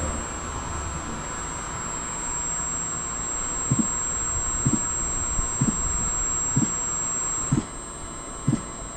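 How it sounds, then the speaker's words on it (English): An NIO battery swap station fastening a car battery in place: a steady mechanical hum with a sharp knock roughly once a second, close by and without speech. "It sounds like somebody's screwing the battery back in."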